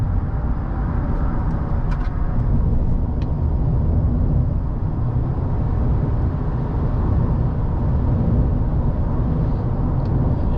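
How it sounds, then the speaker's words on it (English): Steady low rumble of a 2020 GMC Sierra 1500 SLT V8 pickup truck under acceleration, heard from inside the cab as continuous engine drone and road noise with no talk. "just like that V8 makes really good acceleration"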